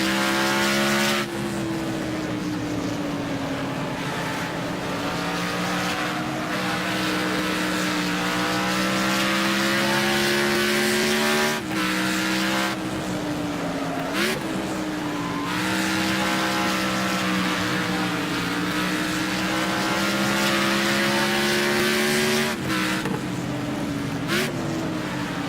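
A race car engine in the Wreckfest racing game drones loudly and continuously, rising and dropping in pitch through gear shifts, with brief bursts of tire noise and no talk.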